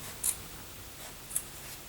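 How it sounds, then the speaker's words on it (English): Short scissors make two quick, faint snips through a sewing fabric band, cutting along the edge of the existing band, close and quiet against a still room with no talking. "So I'm just going to use the edge of the existing band to cut it. I like to use shorter scissors when I'm cutting."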